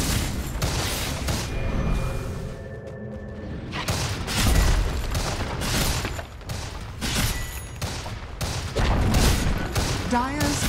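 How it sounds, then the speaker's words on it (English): A Dota 2 battle at the Dire top tower, with dense volleys of attack hits, booms and thuds crowding together over a steady bed of game noise, and a voice heard briefly. "Dire's top tower is under attack."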